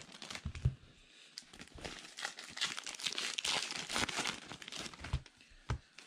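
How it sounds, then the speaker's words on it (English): A 2019 Heritage Minor League baseball card hobby box is ripped open, with close, continuous crinkling and tearing of paper and foil wrapping and a few sharper crackles and handling bumps. "Almost this box completely ripped."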